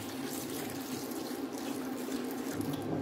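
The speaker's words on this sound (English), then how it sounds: "Next, I add in water to wash the Banga." Water runs steadily from a tap into a bowl to wash banga palm nuts of dirt and sand, a constant close splashing rush with no voices.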